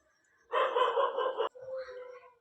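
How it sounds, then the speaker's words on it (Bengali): A single dog gives one sustained bark-like yelp lasting about a second, followed by a softer whine, heard fairly close and clear against an otherwise quiet background. "আর এত কুকুরের চিৎকার আর কি বলবো"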